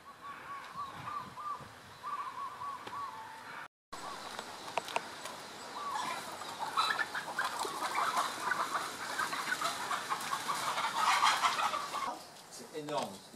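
Free-roaming chickens on the Marquesas Islands cluck and squawk while being chased, agitated calls rising in a busy, fairly close flurry after a brief break, with scuffling through the whole stretch.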